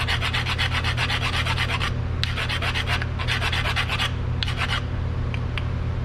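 Rear brake pad from a 2015 Toyota Camry being ground down to fit, a harsh continuous abrasive rasping in three long bursts with short gaps, loud and close over a steady low hum, with no talking.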